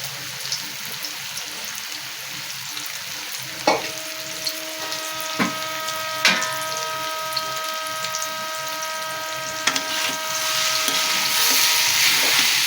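An egg chop fries in a pan with a steady, close crackling sizzle, punctuated by a few sharp clinks of a utensil against the pan.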